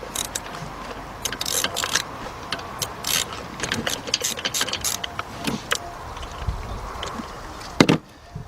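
Ratchet with a 4-inch extension working a spark plug loose on a Chrysler/Dodge engine with a cylinder 5 misfire, giving repeated close, sharp clicking bursts in an irregular rhythm, with no talk.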